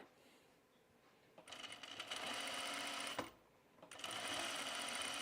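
A sewing machine stitches a Teddy Top in two steady running bursts, the first about two seconds long and the second starting after a short pause, close and fairly loud with no talking.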